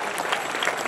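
Crowd clapping at a Baramati wrestling match, a brief burst of dense applause from many hands.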